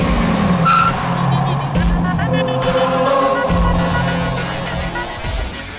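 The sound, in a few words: car being driven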